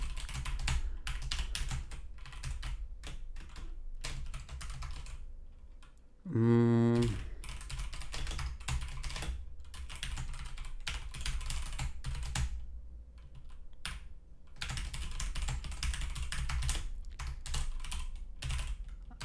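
Rapid typing on a computer keyboard, close-up clattering key taps in fast irregular bursts with short pauses, broken once by a brief tonal beep-like sound in the middle.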